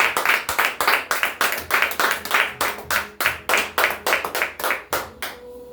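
Church congregation clapping in a strong, evenly paced rhythmic pulse, loud and close, keeping time for several seconds before breaking off at the end.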